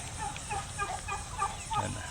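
Turkeys at a poultry farm let out several short gobbling bursts in quick succession, fairly close, over a steady farmyard background.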